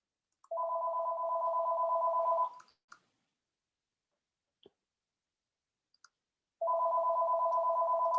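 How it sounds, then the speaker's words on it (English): An office telephone rings twice: two loud, steady electronic bursts several seconds apart, with faint clicks in the quiet gap between them. "And of course, the phone rings."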